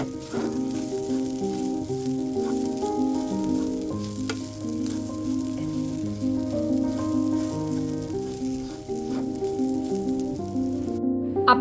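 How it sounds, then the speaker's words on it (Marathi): Pigeon pea and green pea masala filling for wheat-flour khasta kachori being sautéed in a pan, a steady close sizzle and occasional stirring running under background music throughout. "थोडंसं चांगलं असं परतून घ्यायचं आहे, म्हणजे मीठ आणि मसाले व्यवस्थित मिक्स होतील"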